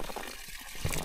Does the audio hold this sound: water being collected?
yes